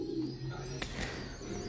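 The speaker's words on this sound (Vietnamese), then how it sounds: "chim mẹ đang cho chim con ăn nhìn nó thú vị lắm" Domestic pigeons coo softly and continuously at a farm loft while a mother bird feeds her chick, a low, steady, close murmur with a faint chirp near the middle.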